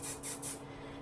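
Hair spray misted onto curls, three quick pressurized bursts in a row, close and fairly loud, with no voices.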